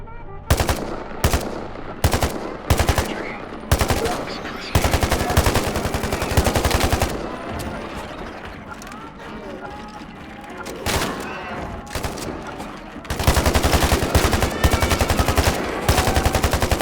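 Bursts of automatic gunfire in the Soviet-era Poland shooter game Phantom Line, loud rapid volleys repeating with short gaps, close and dominant throughout with a voice speaking at points.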